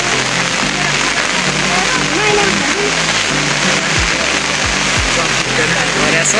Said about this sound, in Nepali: खाजा टाइममा पानी पर्यो